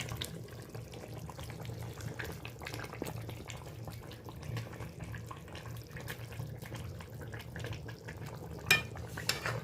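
Fish and winter vegetable curry with pond-raised rohu and catla stirred in a pan, a soft wet scraping and sloshing over a steady low simmering bubble, close and continuous with a couple of sharper knocks near the end.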